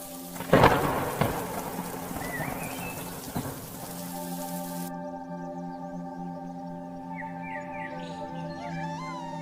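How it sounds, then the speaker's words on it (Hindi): A heavy night thunderstorm with pouring rain opens with a loud, close thunder crack and rumble, then settles into a steady hiss of rain while a sustained tonal drone carries on underneath. "जोरों से बिजली कड़कने लगती है और तेज बारिश होने लगती है।"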